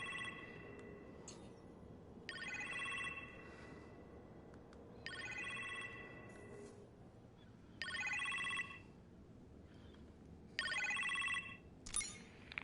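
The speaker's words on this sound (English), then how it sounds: "You appear to have a phone call in the kitchen" Telephone ringing in a kitchen in the VR game Marvel's Iron Man, in regular bursts of electronic trills separated by short pauses, clear and fairly loud over a low background hum.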